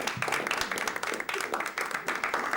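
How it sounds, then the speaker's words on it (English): A studio audience claps for a panel show after a tied round, brisk, close applause that runs evenly through the clip without any voices. "Round of applause."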